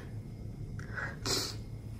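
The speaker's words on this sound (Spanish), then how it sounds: "Ay, tengo ganas de estornudar." A person sneezes once indoors, a short sharp burst preceded by a quick inhale, faint against a low background hum.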